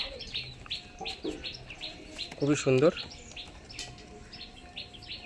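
Pigeons sitting on eggs chirp and stir restlessly in a loft, with a brief louder burst of calls in the middle, while someone talks nearby.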